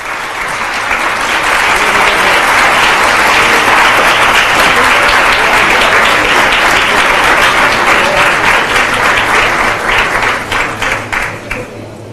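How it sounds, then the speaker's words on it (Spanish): A large conference audience at CADE 2013 gives loud, sustained applause to former Dominican president Leonel Fernández, a thick wall of clapping that holds steady for several seconds before thinning into scattered claps near the end. "Recibimos con un fuerte aplauso al expresidente de República Dominicana"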